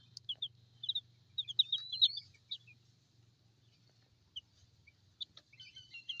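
High, thin peeping of young chicks with splayed legs, scattered chirps in small bursts over a low steady hum, moderately close.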